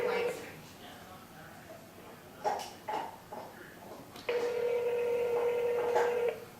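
A telephone rings repeatedly on the far end of a call, electronic tones starting and stopping in bursts, with a person talking quietly over them.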